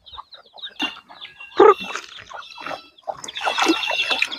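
Native chickens cluck close by at feeding time in short, uneven bursts, several birds calling over one another.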